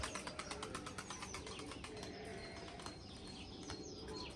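A young smoky pigeon landing amid rapid wing flaps: a quick series of sharp flutters in the first second or two, then softer rustling, faint and fairly close.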